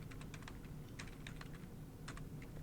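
Keys clatter on a computer keyboard while text is typed into a word processing document, short bursts of quick taps with brief pauses, close and fairly quiet, with no voice.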